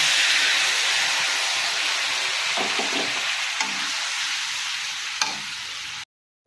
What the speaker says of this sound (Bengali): এবার মশলাটাকে আমি ভালো করে কষিয়ে নিচ্ছি